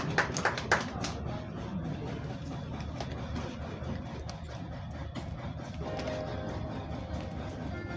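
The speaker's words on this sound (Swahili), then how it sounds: "Karibu sana, tumpigie makofi" Applause from the audience at a Kenyan entertainment awards ceremony as a recipient from online media is called up, a dense, steady patter of clapping running throughout with a few sharper claps near the start over a murmuring crowd.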